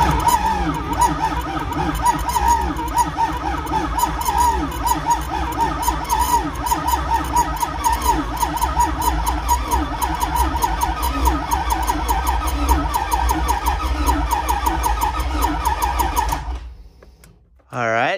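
The LS-swapped Nissan 350Z's starter cranks the engine over on its first start: a steady, rhythmic whirring churn that runs for about sixteen seconds and then stops.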